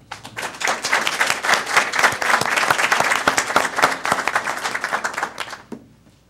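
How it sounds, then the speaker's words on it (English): An audience in a city council chamber claps in a loud, dense round of applause that swells and keeps going for several seconds, then quickly fades to quiet. "please rise and give a round of applause"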